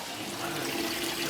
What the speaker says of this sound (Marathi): ते पाणी भरून घेते पहिले.